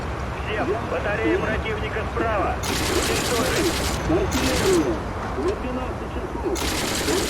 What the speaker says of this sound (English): Time to lay some fire down, some 50 cal